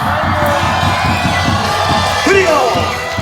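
Stadium crowd at a football match cheering loudly and steadily, with whoops and shouts rising above a dense wall of voices, plus one sharper whistle-like shout near the end.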